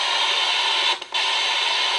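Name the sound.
ghost box radio scanning white noise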